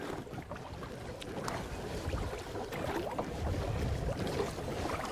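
Two people paddling a kayak on open water, with soft paddle splashes and water movement beneath gusty wind noise, fairly close and continuous.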